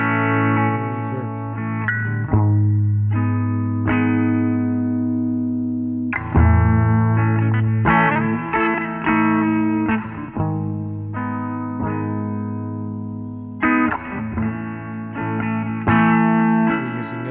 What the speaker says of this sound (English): Now let's check out the reverb.